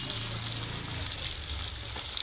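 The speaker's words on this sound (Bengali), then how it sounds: "মশলাটার সাথে ভালো করে কষে নেব।" Spices frying in a pan of oil for Bengali chili chicken, a steady close sizzle with faint stirring scrapes, no talk.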